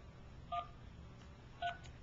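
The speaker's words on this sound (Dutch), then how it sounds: "We gaan proberen open nummer te bellen" A telephone number is dialed by hand, giving two short DTMF keypad tones about a second apart, clear but fairly quiet over a low background hiss.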